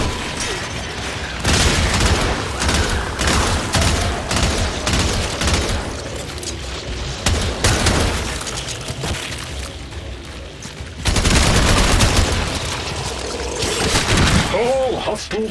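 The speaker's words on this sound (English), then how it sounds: "Destroy it with weapon fire." Weapon fire at a hive in the video game Warframe, with dense bursts of rapid shots and explosive booms running almost continuously, loud and layered over game music and effects, with heavier volleys near the end.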